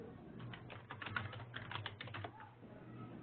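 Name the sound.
computer keyboard typing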